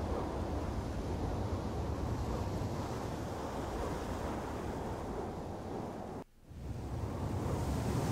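A looping wind ambience from the Devil May Cry video game roars as a steady, loud broadband gust, then cuts out abruptly for a split second before restarting at full strength.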